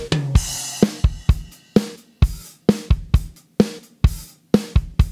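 A drum kit heavily compressed through a stomp compressor plays a steady groove, crunchy, with punchy kicks and snares that pump and smear into distorted, washy cymbals.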